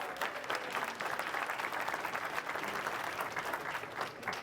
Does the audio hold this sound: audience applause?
yes